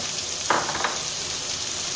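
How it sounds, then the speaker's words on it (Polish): Spring onions are dropped into a pot of frying meatballs, giving a brief burst of sizzling around the half-second mark over a steady low background of frying. "I też podsmażam ją na rumiano, na słomkowo."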